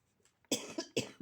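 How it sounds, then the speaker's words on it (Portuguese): Several sharp coughs in quick succession, close and loud, after a brief near-silent pause; no talking. "Tem que tomar uma água para parar de tossir"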